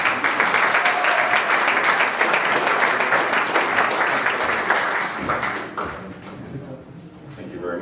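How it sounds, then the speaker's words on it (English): A room full of people applauds steadily for the final speaker at a sales and revenue leaders event, dense clapping that thins out toward the end. "let's have a round of applause for our final speaker"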